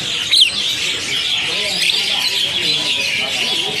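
A Pacitan white-eye (pleci) chirps at a busy bird market, with a bright, quick call near the start and softer tweets after it. Steady market chatter and other birds carry on underneath.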